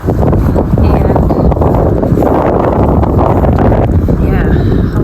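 Strong gusts by a lake batter the microphone with a loud, continuous roar and rumble, while a person talks underneath.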